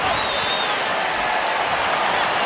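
A stadium crowd at the Australia vs Wales Rugby World Cup third-place play-off in Auckland applauds Nathan Sharp's 100th test, a steady, dense roar of clapping and crowd noise throughout.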